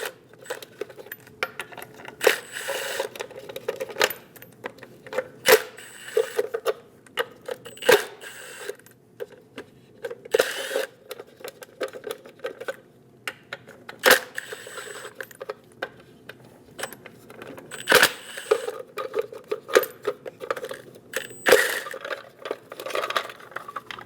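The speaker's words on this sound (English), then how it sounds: "Using a 21mm socket, we're going to remove all of these lug locks." A 21mm socket working lug locks off a 2001-2006 Chevrolet Silverado front wheel, heard as repeated sharp metallic clicks and clanks scattered irregularly through the clip, with no talking.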